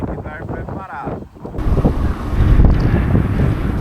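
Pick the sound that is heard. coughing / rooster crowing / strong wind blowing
strong wind blowing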